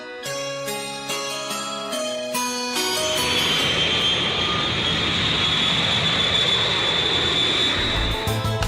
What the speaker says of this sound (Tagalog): Nia, sakay na ko ining eroplano nga may magdana ko sa Taiwan.